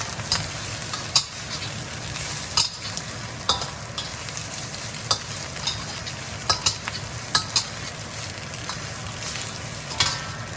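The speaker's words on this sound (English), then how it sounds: "Then you're gonna want to add the Chinese sausage. All of it. Okay. And then we're gonna stir fry." Chinese sausage being stir-fried in a pan for crab and sausage egg fried rice: a steady loud sizzle under frequent sharp clicks of the utensil against the pan, with no talking.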